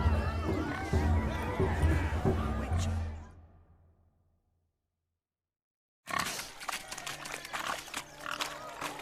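Pigs oink and squeal amid a bustling crowd at a pig race in The Witcher 3 video game, busy and mid-distance, dropping to silence before the noisy crowd and animal sounds return.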